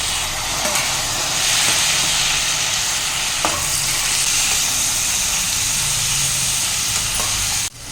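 Thin lengthwise-sliced brinjal (eggplant) frying in a pan, a loud, close, continuous sizzle and hiss with occasional stirring clinks, ending in a sharp knock at the close.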